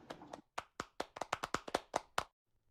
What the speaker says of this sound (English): please, audience, clap